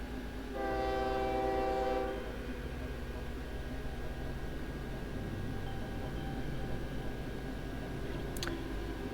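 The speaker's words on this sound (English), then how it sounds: "Which train do you think is going to depart first?" A train in a simulation gives a long harmonic horn blast, then a continuous rumbling rail noise carries on steadily afterward with a brief faint squeal near the end.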